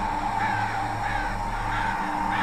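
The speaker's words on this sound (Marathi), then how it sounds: "तोच त्याला तिथल्या दरीतून कावळ्यांचे आवाज ऐकू येऊ लागले." Crows caw from a valley in repeated harsh calls at a fairly even rhythm over a constant low background hum.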